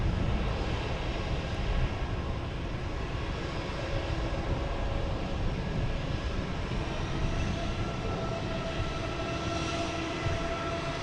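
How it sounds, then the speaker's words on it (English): A JetBlue Airbus A321 jet airliner at Boston Logan Airport, bound for Seattle, gives off a steady, loud, broad engine roar that holds unbroken for the whole stretch, with no voices over it. "We have JetBlue here heading to Seattle with A321"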